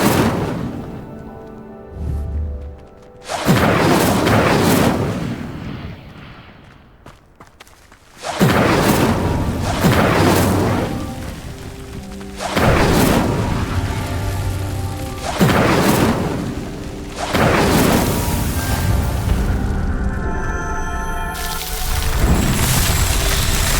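The Incendio fire spell is cast over and over in Hogwarts Legacy, each cast a loud roaring whoosh of flame with a booming impact. The blasts come in several heavy waves over ongoing game sound.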